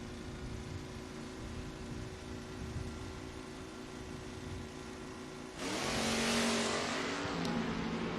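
A 1972 Camaro and a Pinto drag racing at the FRBR Footbrake Feast, with a steady engine drone that swells into a loud, close roar of hard acceleration partway through.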